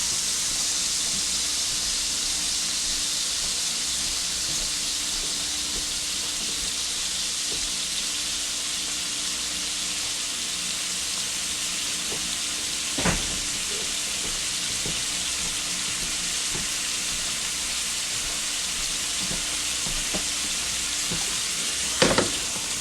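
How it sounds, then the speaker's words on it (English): Pork sautéing in a pan gives a loud, steady frying sizzle and hiss that runs without a break, with a couple of brief sharp clicks from the pan along the way. "That sauteed around in there."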